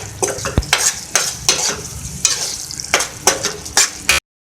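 Chicken keema with garam masala and salt being stirred in a hot karahi: a sizzling fry broken by bursts of spoon scraping and clanking, close and loud, no talking.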